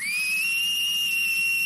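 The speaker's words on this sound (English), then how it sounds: "she can whistle so loud, my ears hurt." A loud, shrill human whistle held as one steady, piercing tone for nearly two seconds, close and alone with no talking.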